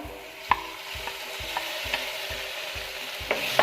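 Marinated chicken strips, coated in soy sauce, salt and spices, fry in a pan with a steady sizzle while a spoon stirs them in a regular rhythm, several sharp scrapes and clinks standing out against the hiss.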